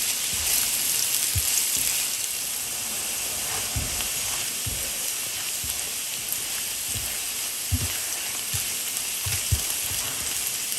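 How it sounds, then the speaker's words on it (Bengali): Onions frying in a pan make a dense, continuous hiss and sizzle with scattered soft knocks from stirring, close up, with no voices. "পেঁয়াজটা যতক্ষণ না লাল হয় ততক্ষণ এভাবে ভাজতেই থাকবো"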